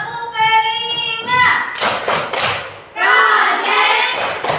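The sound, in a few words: class clapping hands in rhythm, tepuk P5 clap routine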